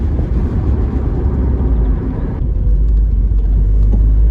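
A steady MG TF engine drone with road rumble, continuous and fairly loud, a slight shift in tone partway through as the car keeps moving.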